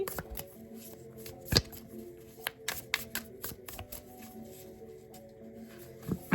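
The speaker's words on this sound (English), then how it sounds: "I'm gonna have to shuffle this bad boy real good" A new The Little Hermits Tarot deck with painted edges is shuffled by hand up close, giving a quiet run of soft riffles, slaps and card clicks with a few sharper snaps.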